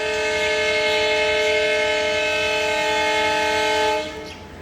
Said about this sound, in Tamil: ராமேஸ்வரம்லேருந்து மதுரை போகிற பேசஞ்சர் சவுண்டு தான் இப்போ ஹார்ன் அடித்தது